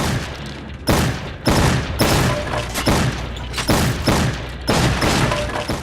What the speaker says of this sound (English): This gameplay cycle of shooting targets quickly and accurately, and yes, with reloading involved